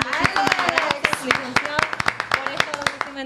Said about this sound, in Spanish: vamos a despedir al licenciado con un fuerte aplauso.